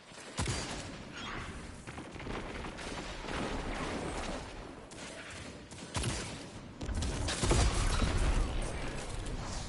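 Rapid hand cannon shots and other gunfire from a Destiny 2 Supremacy match, a busy stream of cracks and thumps over game effects, growing louder toward the end.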